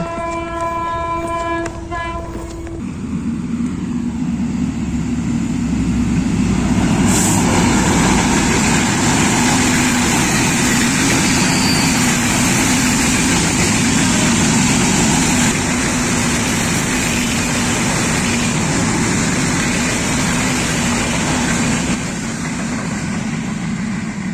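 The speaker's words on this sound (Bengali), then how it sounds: "ট্রেন আসছে সামনে থেকে" A train comes in from the front with a loud horn blast at the start, then a sustained, heavy rumble and clatter of wagons passing close by for over twenty seconds.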